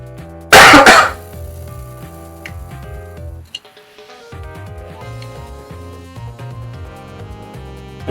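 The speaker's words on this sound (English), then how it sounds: "gotta cough real quick" One sharp, loud cough bursts out near the start, followed by quieter background music with a brief dip partway through.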